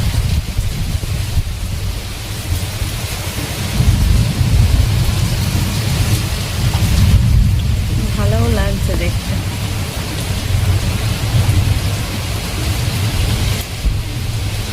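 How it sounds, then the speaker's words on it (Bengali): Heavy rain pours steadily through an open window during an evening thunderstorm, a dense continuous roar with low rumbling, while a person speaks briefly and faint chirps or creaks surface partway through. "বিদ্যুৎ চমকাচ্ছে যেমন, তেমন ঝড়,"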